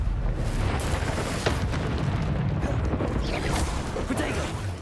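A Confringo blasting curse explodes in Hogwarts Legacy, a dense sustained roar of blasts and rumbling booms with several sharp cracks, loud and continuous throughout.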